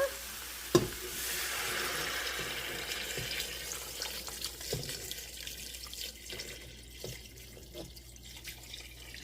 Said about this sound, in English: And I'm going to add 10 cups of water.